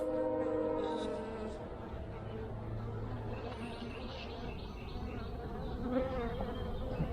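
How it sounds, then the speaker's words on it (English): Honey bees buzz steadily throughout an open-hive inspection, a dense close droning hum that stays fairly even in level with no talk over it. "Now there's a baby bee right there, a really young one."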